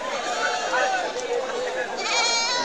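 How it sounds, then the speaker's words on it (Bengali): Goats bleat repeatedly at a busy livestock market, with several animals calling close by at once and people's voices mixed in around them. "দেখেন খালি ছাগল আর ছাগল"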